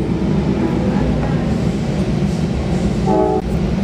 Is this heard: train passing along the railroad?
yes